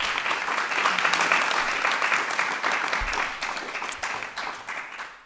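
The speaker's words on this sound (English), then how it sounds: "So a warm applause again for Zainab Al-Zawaj" Warm applause from a debate audience, steady dense clapping that holds for several seconds and then thins and fades out at the end.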